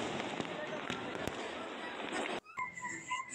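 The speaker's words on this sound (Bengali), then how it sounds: "আতশবাজির বর্ণিল সজ্জা দেখা যাচ্ছে।" New Year fireworks viewed from a city rooftop crackle and pop in a dense, loud barrage with sharp bangs, then cut off suddenly, leaving quieter scattered sounds and a hint of voices.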